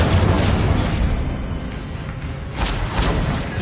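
Fire spell blasts from the Hogwarts Legacy video game, Confringo and Incendio, sound as loud roaring bursts with a rushing fiery swell, and a second burst lands near the end.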